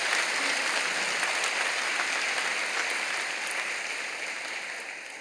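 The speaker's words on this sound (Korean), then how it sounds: "여러분 그 박수로 크게 감사를 표하시죠." A church congregation applauds together at a morning prayer service, a dense, steady wash of clapping that fills the room and slowly thins toward the end.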